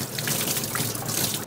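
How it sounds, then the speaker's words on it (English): Purigen filter media for an aquarium rinsed under a running tap of dechlorinated water, a loud close steady gush and splatter throughout that cuts off abruptly at the end. "I'm gonna rinse it with dechlorinated water"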